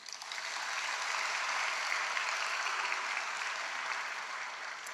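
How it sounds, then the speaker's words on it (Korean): A church congregation applauds during a Sunday sermon, steady, dense clapping from many people in a large room that swells quickly and holds for several seconds before easing slightly. "박수 쳐주고 들어가요."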